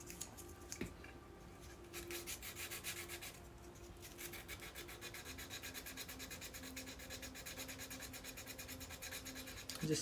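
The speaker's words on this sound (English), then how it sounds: "Just sanding some brass, making a little egg-shaped cam for the back of my chicken lock." Brass being hand-sanded into a small egg-shaped cam for a chicken lock, a rapid back-and-forth rasping in quick regular strokes, close and fairly quiet, with a brief pause early on and no talk.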